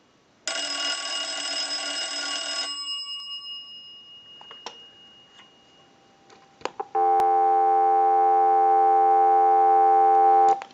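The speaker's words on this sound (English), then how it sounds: "I'll let it go one more time and we'll give you some dial tone." On a candlestick and bell box telephone under repair, a final burst of bell ringing fades into a few clicks, then a steady, loud, even telephone dial tone holds for several seconds until the end.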